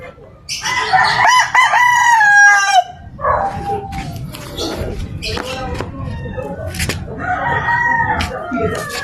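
Gamefowl roosters of sweater and Boston broodstag breeding crow loudly up close, a long cock-a-doodle-doo followed by more crowing and clucks, with someone talking over part of it.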